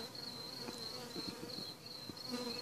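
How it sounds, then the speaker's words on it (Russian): Honeybees from a swarm being caught buzzing steadily and close: a dense, continuous drone with a few individual bees passing nearby, no speech. "Все, пчелки наши полезли."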